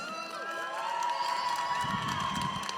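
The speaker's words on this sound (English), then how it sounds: "Let's make some noise for the Red Alliance." Crowd cheers and shouts for the Red Alliance at a Minnesota state robotics competition, a steady mass of voices rising toward the end, moderately loud with tonal arena noise underneath.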